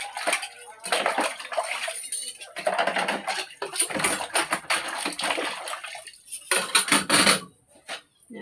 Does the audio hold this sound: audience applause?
no